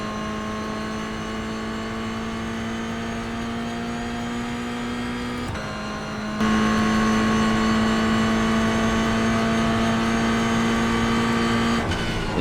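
A race car lapping Zandvoort holds a loud, steady engine drone through a turn, briefly dipping as it lifts off, then surging back at higher pitch and volume, heard from onboard with no talk.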